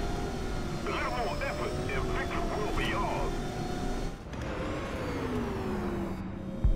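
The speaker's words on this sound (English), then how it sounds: "Friendly plane." A friendly airplane drones overhead in the War Thunder tank game, a steady engine whine over the tank's low rumbling noise, with a person's voice briefly heard over it.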